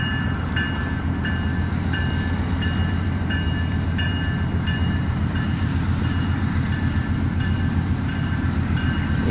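Locomotive 112 pulls away after refuelling with a loud, steady diesel rumble and drone, close by and continuous, with faint higher tones above it.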